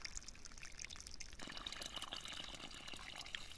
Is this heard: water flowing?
yes